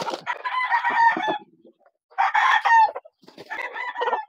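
A McLean Hatch gamefowl rooster crows three times in loud, close, drawn-out calls separated by short pauses, with no talking.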